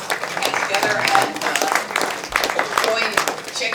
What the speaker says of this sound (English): let's give everyone applause